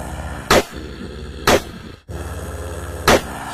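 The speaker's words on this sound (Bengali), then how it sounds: "তারপর তাঁবু লক্ষ্য করে বেশ কয়েকটা গুলি ছুঁড়ল গোবিন্দ।" Three sharp revolver gunshots fired at a tent in an animated ghost story, loud and close, spaced about a second apart over a low steady background.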